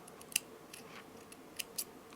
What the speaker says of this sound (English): I will cut the thread